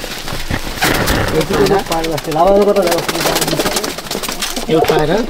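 Pigeons coo in a village loft by a pond, where birds are kept for a flying competition. Their layered, throaty calls ring loud and close and keep going without a break.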